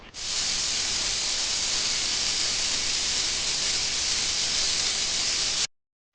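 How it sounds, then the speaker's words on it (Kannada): Steady, loud hiss of steam from a pressure cooker venting while ragi ears cook inside, holding constant for several seconds before cutting off abruptly. "ಇವಾಗ ಲಿಡ್ನ ಕ್ಲೋಸ್ ಮಾಡಿ 2 ವಿಷಲ್ ಕೂಗಿಸ್ಕೊಳ್ಳೋಣ."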